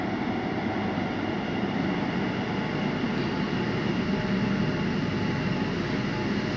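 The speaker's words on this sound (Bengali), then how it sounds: "দেখতে পাচ্ছেন ট্রেন এসে গেছে" Kolkata metro train pulling into an underground station, a steady loud rumbling roar of wheels and motor with hiss, continuous throughout and close by, no talk over it.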